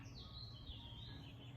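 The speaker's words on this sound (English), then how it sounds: "Such a pretty bird." A pet bird chirps softly, a thin wavering tweet rising and falling over a quiet room hum, close but faint.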